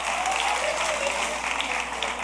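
A church congregation breaking into applause during a sermon, a steady, close burst of many hands clapping together that holds evenly throughout, with no voices over it.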